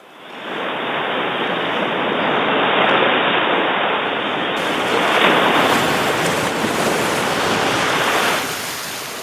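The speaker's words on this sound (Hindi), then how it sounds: "शंख को कान के पास लगाकर सुनिएगा। समुद्र सुनाई देगा।" Ocean waves, as heard when a conch shell is held to the ear: a steady, loud, broad surf roar that swells gently and continues without a break.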